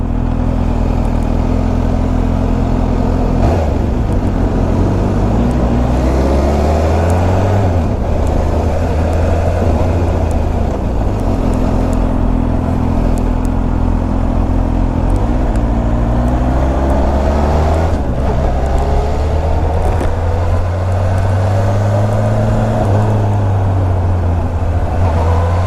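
A supercharged Kawasaki H2 SX motorcycle being ridden, its engine droning loud and steady throughout with rising and falling revs as the rider accelerates and shifts, heavy wind rush over everything.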